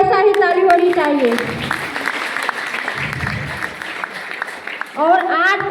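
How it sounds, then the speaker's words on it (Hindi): Crowd applause and clapping at a gathering in India, a thick patter of many hands running through the middle, framed by voices talking and calling out loudly at the start and end. "जैसा लगा वैसा ही ताली होनी चाहिए।"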